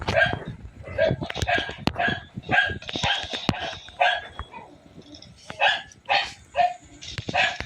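Repeated sharp dog barks and yips in a Call of Duty video game come in quick bursts, fairly close and loud, with brief gaps between them.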